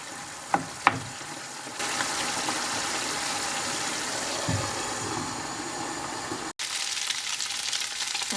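Cubed meat browning in a pan for Ali Nazik kebab sends up a steady, close sizzle that swells after a couple of sharp knocks, then breaks off briefly before resuming, with no speech.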